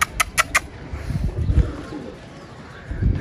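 Pigeons coo with a few sharp bursts of wing flapping at the start, followed by low rustling and muffled human voices in the background.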